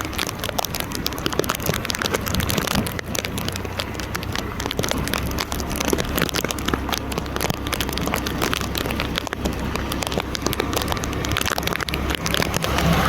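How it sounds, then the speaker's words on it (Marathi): Monsoon rain falling in Palghar under a red alert, a dense steady hiss and patter on surfaces lasting throughout, with a faint low rumble of traffic beneath. "पाऊस आज पण थांबणार नाहीये"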